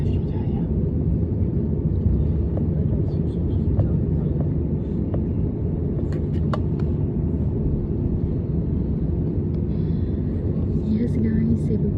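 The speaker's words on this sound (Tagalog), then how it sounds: "Take off na ang ating sinasakyang eroplano." From inside a Cebu Pacific airliner during takeoff, a loud, steady engine roar and cabin rumble fill the whole stretch, with faint clicks and rattles over it.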